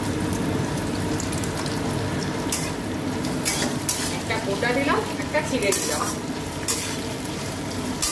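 Dried red and green chillies fry lightly in a pan, a continuous oily sizzle broken by scraping stirs and a few clinks of a utensil against the metal.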